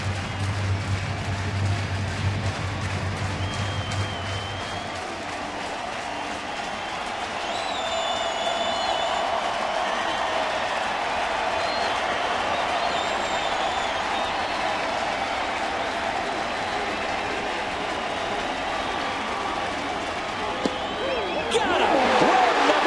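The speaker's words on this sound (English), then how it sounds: "Just take in the crowd here." A baseball stadium crowd roars and applauds in a broad, sustained wash of cheering that swells and lingers, far-off and dense, with a commentator's voice running over it.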